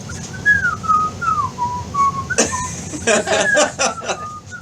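A person whistles a gliding melody, then a burst of laughter and chatter cuts in over the last few notes.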